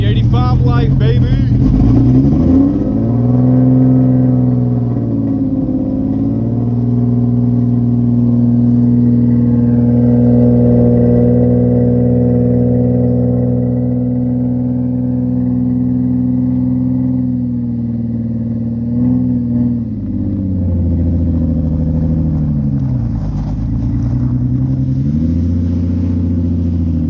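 A Nissan 350Z engine with a new exhaust and E85 tune idles and revs, its deep droning exhaust rising and falling through several held revs, loud and close, with voices talking over it.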